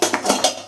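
A lid set onto a cooking pot in a home kitchen while pulihora, tamarind rice, is being made gives three quick, close metallic clinks and rattles within under a second, fairly loud, with no voices.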